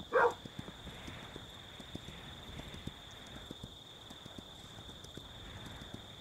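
In Kingdom Two Crowns, a small farm-nag horse clip-clops along in a soft, regular hoof rhythm under a steady high ambient tone, with a brief louder burst at the start.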